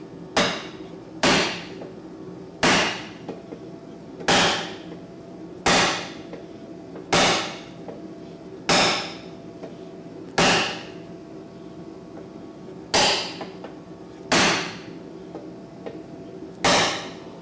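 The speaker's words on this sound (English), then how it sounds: "the reason why I use a chisel rather than a spoon dolly, because the chisel is going to bite into the metal and it won't slip." Metal hammer blows drive a chisel into car body metal on a wrecked 2014 Nissan 370Z, twelve sharp ringing strikes spaced at a slow, fairly even pace, close and distinct.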